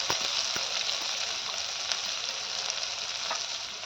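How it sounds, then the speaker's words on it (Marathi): Red chilli and garlic paste sautéing in a hot pan for a chana dal zunka, a constant bright sizzling hiss with a few faint taps of a spoon, close and steady without talking. "आता हे छान परतून घ्यायचं"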